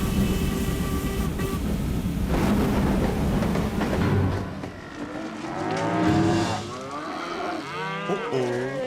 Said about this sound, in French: Je dois filmer cette vache sauvage!